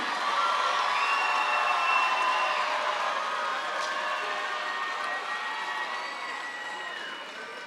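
A large audience applauds the Class of 2022 at the 2022 Phoenix graduation ceremony: dense, steady clapping from start to finish with scattered cheers and whistles, fading slightly toward the end.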